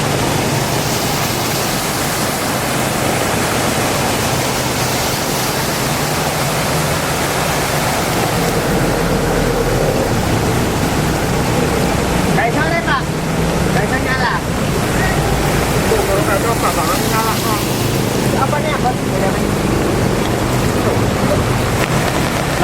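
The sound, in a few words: floodwater overflowing on a street in Malang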